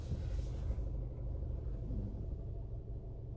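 A Honda car engine idles with a steady low rumble, smooth and even throughout, no voices.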